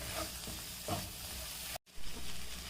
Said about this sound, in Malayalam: ചെറുതായി അരിഞ്ഞ് മീഡിയം സൈസ് തക്കാളി രണ്ട് ഇതും ചേർത്ത് നമുക്ക് നന്നായി ഒന്ന് വഴറ്റിയെടുക്കാമെന്ന്